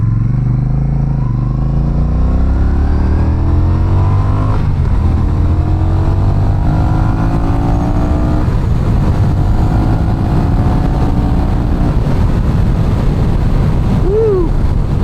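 A Honda Rebel 1100 motorcycle accelerating on rough city streets, the engine note climbing through gear changes, loud and close with heavy wind rush over the microphone.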